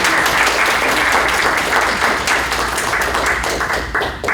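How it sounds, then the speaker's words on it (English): A conference audience applauds steadily, dense clapping sustained throughout and fading slightly toward the end. "Would you please give a nice round of applause"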